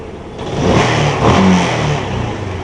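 A Yamaha Spark 135 motorcycle with an upgraded carburettor revs hard up close, its engine rising in a loud throaty surge and then settling back toward idle, with no voices.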